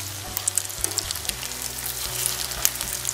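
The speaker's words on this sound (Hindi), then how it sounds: "अब इसकी साइड को चेंज करके दूसरी साइड से भी इसी गोल्डन कलर आने तक इनको फ्राई कर लेंगे" Chicken and vegetable bread rolls frying in hot oil, a steady close sizzle with fine popping crackles throughout and no voices.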